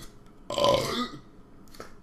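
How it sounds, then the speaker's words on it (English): A single loud, drawn-out comedic burp, close and clear, followed by a short quieter second burp near the end. "those are professional comedy burps"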